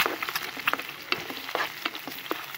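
An egg is stirred and scrambled in a sizzling frying pan for bacon Thai fried rice cooked outdoors, with quick, close scraping strokes over a steady fry and no voices.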